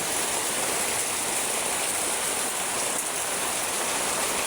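Floodwater rushes in a dense, unbroken roar after a day of continuous heavy rain, a loud, close wash of flowing water and downpour with no pauses.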